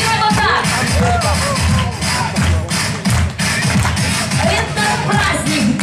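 At a graduation party, an audience claps along in a steady, dense patter that carries through the whole stretch, with voices and crowd noise mixed in.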